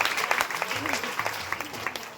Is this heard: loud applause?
yes